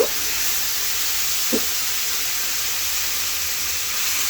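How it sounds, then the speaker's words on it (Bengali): Spices with ginger paste and ground cumin fry in a pan for a sponge gourd and egg dish, giving a steady, close sizzling hiss that runs unbroken throughout with no voices. "এরপরে আমি এটাকে একটু ভাজা ভাজা করে নিচ্ছি"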